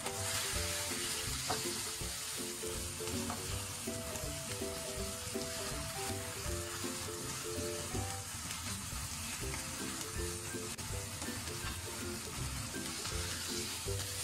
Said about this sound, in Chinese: 把鸡胸肉切面朝下放入锅中，可以用中小火慢煎